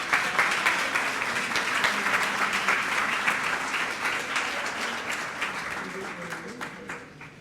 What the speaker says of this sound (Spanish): Así que un aplauso para los niños.